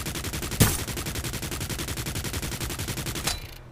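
Sustained, evenly pulsing automatic fire from the shooter Farlight 84, loud and continuous for about three seconds, with a sharper crack near the start and another near the end before it cuts to near silence.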